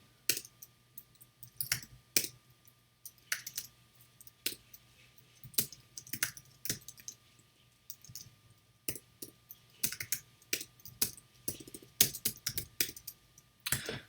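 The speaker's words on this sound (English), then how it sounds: "I'll type this out and I'll just show you how it's read" Fingers type on a computer keyboard in quick bursts of close, crisp key clicks, pausing briefly between runs of strokes, over a faint steady hum.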